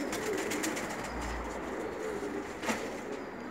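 Aslanbaş pigeons coo softly at close range, giving a low brief murmur against a steady background hiss, with one short sharper sound near the end.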